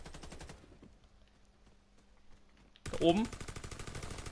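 Rapid automatic gunfire in the video game Warface, a tight burst early on, then a quiet stretch and a loud rattling volley near the end, with someone speaking German briefly over it.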